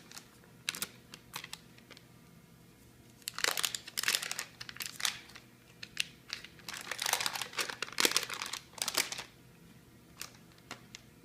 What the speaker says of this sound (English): We're next going to cut in our butter into our dry ingredients